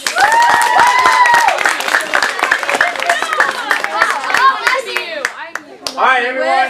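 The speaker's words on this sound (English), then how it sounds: "Teenagers, round of applause for your parents." Teenagers at an acting studio showcase in Phoenix applaud their parents with a burst of hand clapping that fades as voices and chatter take over.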